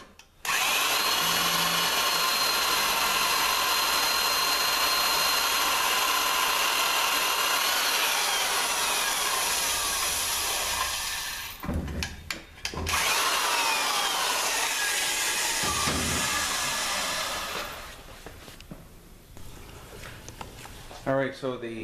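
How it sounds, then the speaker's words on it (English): A power drill fitted with a cutting tool bores out the servo bore of a 5R55S transmission case, a loud steady grinding whir for about eleven seconds. It stops briefly, runs again, then winds down as a voice speaks. "I paused the drill in between because I like to clean the blades after each use."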